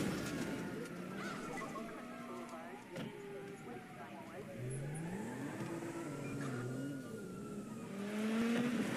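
Engines rev and shift through gears as cars race in the video game Dirt 5, rising and falling pitches layered over a rumbling background, moderately loud and continuous.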